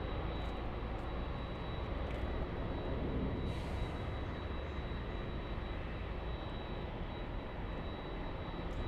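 At LAX, an airliner holds short of runway 24 left while a steady, fairly distant engine roar drones on without a break, a broad rumbling wash with a faint high whine running through it.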